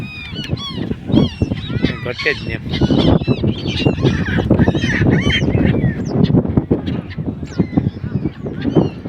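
Many geese honk loudly and continuously in a dense flock nearby at a river confluence, with brief speech mixed in among the calls.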